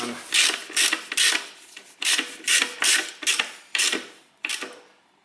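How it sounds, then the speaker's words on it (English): A 14mm ratchet tightens a bolt while servicing the automatic transmission of a Toyota Corolla, giving about nine short bursts of rapid clicking ratchet strokes, loud and close, separated by brief pauses. "fasten that bolt next. There's my tool, 14mm tool"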